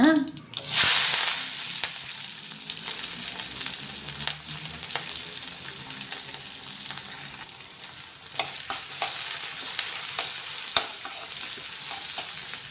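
Onion and green chillies fry in a pan on a full flame, a steady crackling sizzle broken by scraping stirs and a loud burst as they drop into the hot oil near the start.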